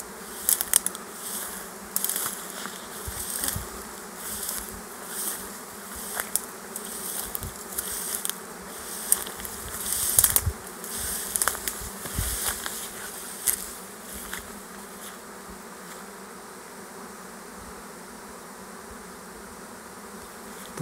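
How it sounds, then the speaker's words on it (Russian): A large swarm of honeybees flies outdoors near a mulberry tree, making a steady, droning buzz that fills the air and swells and fades as bees pass close. No one speaks. "Большой рой летает."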